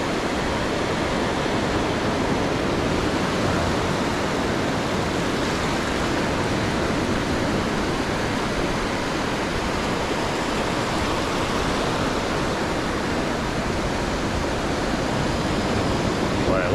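Ocean surf breaking on a beach at Carlsbad produces a steady, loud broadband roar of rushing water with no distinct pauses, as sets of waves roll in continuously.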